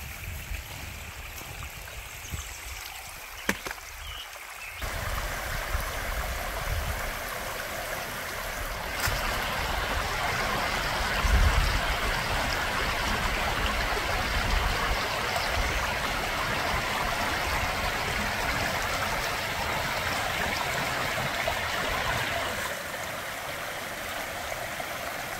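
A woodland stream in the Hammersley Wild Area runs steadily beside a backpacking route near old stacked-stone bridge abutments, a soft continuous wash of water that swells slightly partway through, fairly faint and with no talking.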